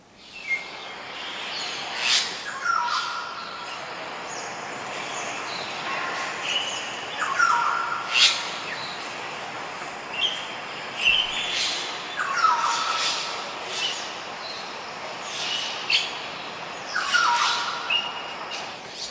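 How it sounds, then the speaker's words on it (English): Morning birds chirp outside an apartment in Singapore, short bright calls repeating every couple of seconds at moderate distance over a steady high insect-like hum and faint background ambience. "It was a video of the sound of birdsong in the morning outside my apartment"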